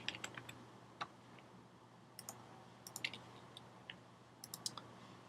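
Sparse, quiet key clicks in irregular bursts, like light typing on a computer keyboard, with short pauses between strokes over a faint steady hum.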